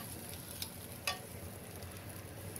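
Onions frying in a pan, a faint, even sizzle with a couple of brief crackling spits, no talking.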